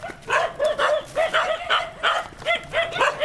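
Several neighborhood dogs bark over and over in a steady, insistent rhythm, a close run of about eight sharp barks without any talking.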